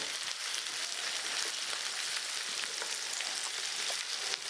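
Garlic and red chillies fry in a pan for sweet chilli tofu, giving a soft, even crackling sizzle with faint pops, steady and fairly quiet throughout.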